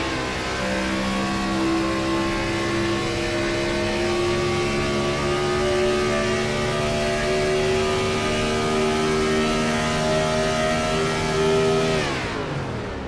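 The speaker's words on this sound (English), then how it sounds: "You hear him way out of the gas in the clutch." An IROC race car engine holding a high, sustained wail with slowly rising pitch, loud and steady, then abruptly dropping away as the driver lifts off the throttle near the end.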